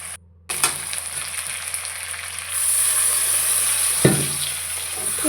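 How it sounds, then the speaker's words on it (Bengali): Potatoes and onions sauté in a pan with a little added water, giving a steady close sizzle that grows louder partway through, with a couple of brief clinks from stirring. "ভালোভাবে কষাতে হবে যতক্ষণ পর্যন্ত না আলু পেঁয়াজ সিদ্ধ হয়।"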